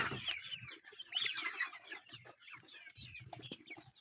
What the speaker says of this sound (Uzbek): Bu esa jo'jachalarimiz.